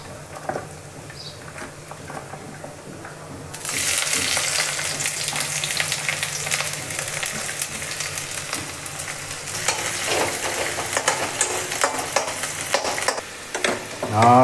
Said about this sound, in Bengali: এখন এটার মধ্যে পেস্টটি দিয়ে দিই